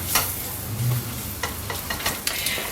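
Butter melting in a pan on the stove for a Mornay cheese sauce, giving a soft, continuous sizzle with light scraping and stirring sounds close by.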